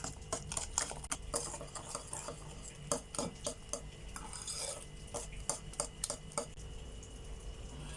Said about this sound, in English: You can use a whisk to mix this well together